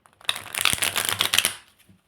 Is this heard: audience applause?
no